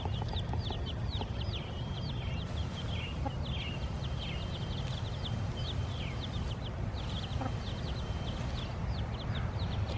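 A farmyard flock that includes a broody hen and her newly hatched young keeps up steady overlapping chirps, peeps and clucks, dense and fairly close, against constant background noise with no talk.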